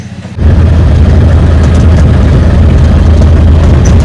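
An auto rickshaw engine kicks in abruptly and keeps running loud and close, a steady low rumbling drone with no speech over it.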